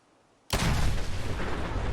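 A hatch explodes after being shot in the video game Fallout 4: silence, then a sudden loud blast that rolls into a sustained heavy rumble, with no speech.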